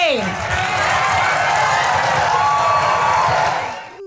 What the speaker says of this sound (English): Listen to the cheering.